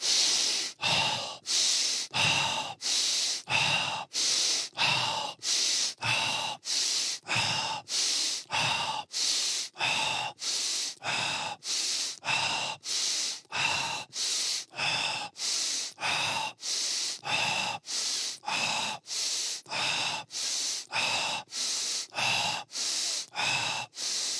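During a Tibetan breath yoga exercise, a person breathes close to the microphone in quick, forceful, evenly spaced breaths, around thirty in a row with no pauses.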